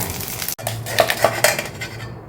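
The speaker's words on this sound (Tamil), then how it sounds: "இதையும் நம்ம மிக்ஸி ஜாரில் ஆட் பண்ணிக்கிறேன்" Sautéed onions tipped into a steel mixer jar while making chutney, giving sharp metallic clinks and a few scraping knocks of a spoon against the jar, close and alone with no voices.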